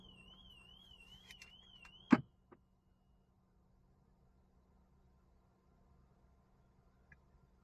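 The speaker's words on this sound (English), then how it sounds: "I guess it has an alarm where I was moving inside the car, so it started going off" A 2024 Alfa Romeo Giulia Competizione's car alarm, triggered from inside the car, wails in a warbling electronic siren for about two seconds, cut off by a sharp thump, followed by a faint click and near silence.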